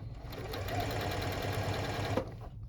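A sewing machine stitches ribbon onto webbing for a key fob wristlet, its motor humming in a fast continuous rattle up close before stopping abruptly near the end.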